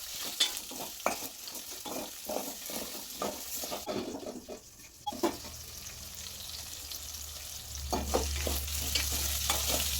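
Onions frying with salt in a pan as they are stirred: a soft sizzle runs underneath bursts of scraping and clattering stirring strokes, quieting midway before the sizzle swells louder and steadier toward the end.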